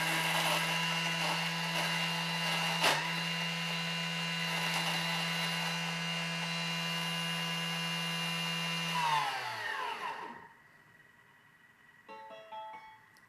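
A Thermomix chops at speed 10 for about ten seconds, a loud, steady high-pitched motor whine with a brief knock near the start. It spins down quickly, leaving a quiet room with a few faint clinks.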